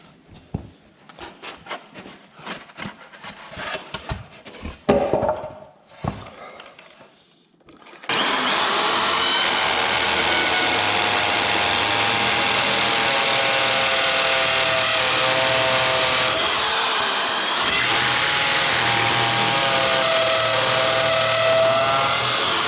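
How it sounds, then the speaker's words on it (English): A loud, steady motorized whine starts abruptly after scattered clicks and knocks, then runs continuously at close range as a power drill bores into wood during bathroom renovation work. "We're gonna drill one here in a second"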